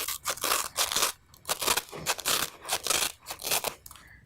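Banana leaf sheets, about 20 centimeters wide, being cut through their hard rib, giving a run of crisp, crunchy snips and tearing bursts in close, repeated strokes with short pauses between.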